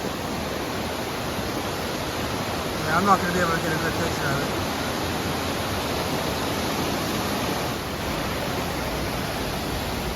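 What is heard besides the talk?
distant waterfall on a hiking trail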